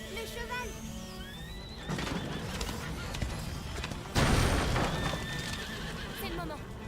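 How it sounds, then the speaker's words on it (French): A horse neighs and whinnies repeatedly with clip-clop hooves during a tense scene in the video game A Plague Tale, loud and close under urgent French dialogue, with a louder crash-like burst near the end. "Regardez, le cheval!"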